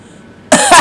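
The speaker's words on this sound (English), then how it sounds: "that wasn't a laugh, I was just coughing" A single harsh cough, loud and close, bursting suddenly after a short quiet pause.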